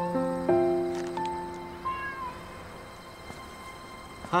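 Kittens meow several times, with a couple of drawn-out, high, wavering cries near the start and shorter faint mews following in a quiet room.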